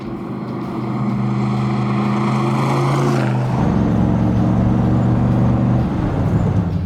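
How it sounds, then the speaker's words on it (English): A 1967 Corvette C2 Stingray with its 427 cubic-inch 7-liter V8 runs steadily, a deep, loud engine drone that shifts pitch slightly partway through and holds strong to the end, with no talk. "This huge 427 7-liter V8."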